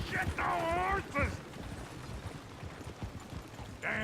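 Horses' hooves clip-clopping with a stagecoach in the Red Dead Redemption 2 video game, a busy rapid clatter under game noise, with a few voiced shouts cutting in near the start and end.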